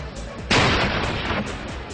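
A sudden loud blast erupts, followed by a roaring, crackling rumble that lasts about a second before fading back to a lower background.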